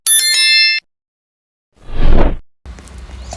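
Bright bell-like notification chime of the subscribe-button kind, a short ringing tone at the start, then a soft whoosh and light rustling follow; no talking.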